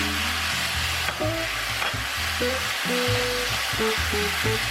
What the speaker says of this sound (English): Stir fry until the mushrooms are cooked. Add the beef into the pan.